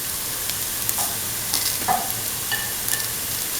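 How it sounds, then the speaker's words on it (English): Red chillies dropped into hot oil in a pan while cooking a split chickpea semolina breakfast dish, giving a steady close sizzle and frying hiss with light stirring clicks, no talking. "Put in the red chillies"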